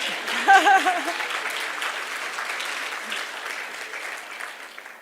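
Light applause from an audience at a memorial lecture, a soft, steady patter of clapping after a brief voice and a chuckle at the start.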